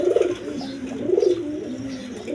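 A pair of pigeons coo close by, two rolling, throaty coos in a soft repeating rhythm.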